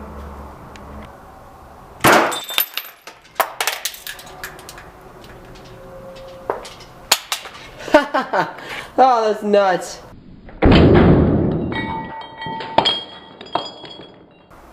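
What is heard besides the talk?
glass soda bottle shattering, hit by ruby laser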